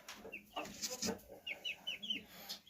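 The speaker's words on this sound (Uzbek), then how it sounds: "Mana shu inkubatorda oxirgi jo'jalari" Newly hatched chicks sit in an incubator, giving faint, thin peeps in a quick run of short calls against a quiet background.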